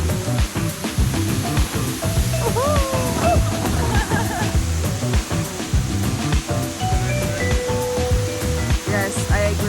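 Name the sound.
tall waterfall in Indonesia, 200 meters high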